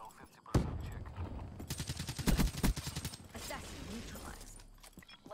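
A BRM gun firing in Call of Duty, heard as a rapid burst of close, loud shots with mechanical clatter, while people talk over the action.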